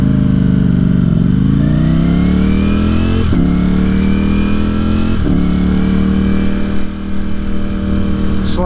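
A Ducati Streetfighter V4 motorcycle accelerates hard with a quick shifter, its loud, close engine rising in pitch and then dropping sharply at each of several quick upshifts.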